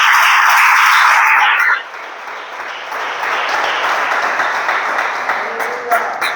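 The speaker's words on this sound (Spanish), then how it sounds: "Denle un aplauso al Señor." A church congregation at a Spanish-language service bursts into loud, dense applause for almost two seconds, then it fades to softer scattered clapping while a preacher's voice continues over the room.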